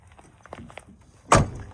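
The door of a 1978 Ford F-250 4x4 pickup in excellent condition shuts with one solid, loud thunk, after a few soft footsteps and faint handling sounds.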